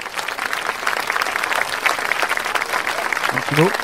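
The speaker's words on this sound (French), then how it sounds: "Les applaudissements aussi de la part du public" An audience at an awards evening in Dole applauds, a dense, sustained round of clapping close and loud, with voices mixed in and a brief vocal sound near the end.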